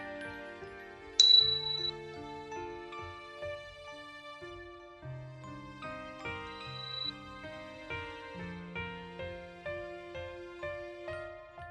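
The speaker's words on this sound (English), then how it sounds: "When you hear the bell, you can open your eyes." A mindfulness meditation bell struck once with a bright ringing onset, followed by a gentle tinkling melody of bell-like tones that continues softly and evenly for the remainder.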